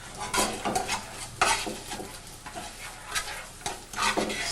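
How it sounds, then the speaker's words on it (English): A spoon works butter and sugar around a pot, giving a sizzling, scraping stir with metallic clinks against the pan, fairly close and continuous with no talk. "Stir it up a bit."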